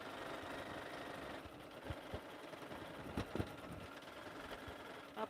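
A home sewing machine hums quietly and steadily while stitching a lined stocking along a quarter-inch seam, with a few soft knocks and clicks of fabric handling and no talking.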